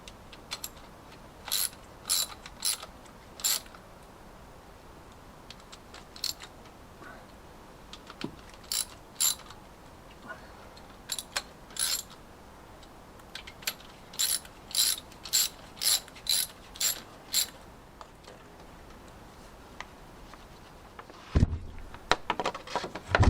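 Ratcheting torque wrench tightening injector bolts on a Land Rover Discovery 2 TD5 engine, with repeated short bursts of sharp ratchet clicks at close range and pauses between them, plus a clunk near the end.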